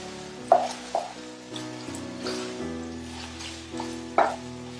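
Char kway teow with small and large prawns cooking in a pan, a soft continuous sizzle with a few sharper clatters of stirring, fairly quiet and close, with no talking.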